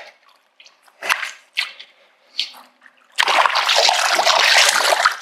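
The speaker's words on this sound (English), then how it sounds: "let me put him in the water for a second." A cutthroat trout dipped and rinsed in the Snake River: a few short close splashes, then a loud sustained churning of water.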